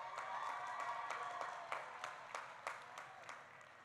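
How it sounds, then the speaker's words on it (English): Faint, distant applause at a high school graduation ceremony: a soft sustained patter of many hands that thins into scattered separate claps toward the end. "You all can give her a better round of applause with that."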